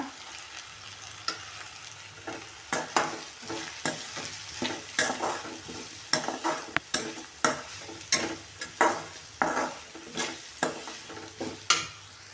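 Grated coconut dry-roasting in a pan for a village-style sundakkai kuzhambu, stirred with a steady run of scraping spatula strokes over a soft, continuous sizzle, close and fairly loud, with no talking.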